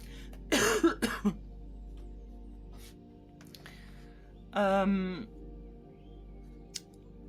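Two short bursts of coughing, close and fairly quiet: a cluster of dry coughs early, then a longer throaty cough a few seconds later.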